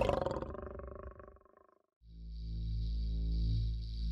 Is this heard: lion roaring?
yes